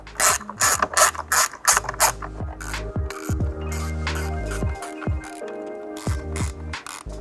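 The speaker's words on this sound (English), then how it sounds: "With our 7mm socket, we'll remove the 3 screws on the back of the grab handle." A hand ratchet with a 7mm socket backing screws out of a Jeep Wrangler grab handle. The pawl clicks in quick close bursts, and short whirring spins fill the gaps between strokes.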